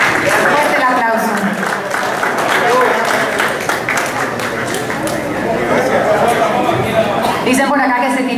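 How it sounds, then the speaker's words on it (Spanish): Steady, loud audience applause fills a hall at a community festival in New York honoring local leaders and artists, with crowd chatter mixed in. "Fuerte el aplauso."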